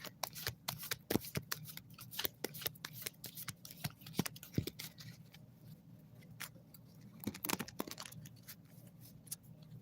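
Tarot deck being shuffled by hand for an ASMR session: close, quiet riffling, tapping and snapping of cards in irregular bursts, with no talking.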